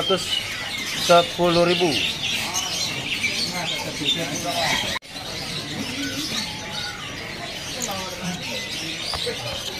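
Caged songbirds, including SRDC Bali birds, chirp and squawk at a bird market kiosk, a busy run of sharp close calls over background chatter, with people talking nearby.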